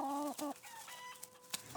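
Chickens cluck in a few short, close calls, with a quick sharp sound near the end and quiet surroundings otherwise.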